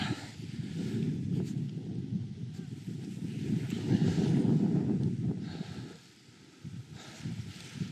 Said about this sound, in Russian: Да, ветрюган суровый.